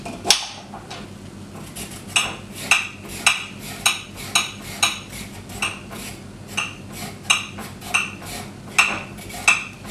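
A knife chops down through a carrot onto a cutting board in a series of about fifteen crisp, fairly evenly spaced knocks, close and clear with no talking.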